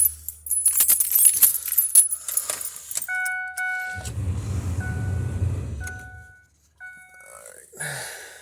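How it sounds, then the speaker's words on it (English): Keys jangle and clink beside a 2008 Ford F-150 pickup, a bright metallic rattle over the first few seconds, followed by chiming door-ajar tones and a low rumble; close and fairly loud, with no talking. "It just so happens I have the keys."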